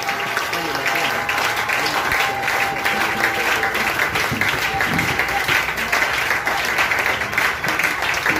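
A church congregation applauds at a crusade festival service, with dense sustained clapping that runs throughout and voices mixed into it.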